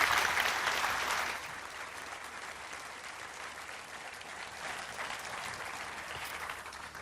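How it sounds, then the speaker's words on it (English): Welcoming applause from an audience at a particle physics lecture, loudest in the first second, then settling into a thinner, steady patter of clapping that continues to the end. "give them a huge welcoming round of applause."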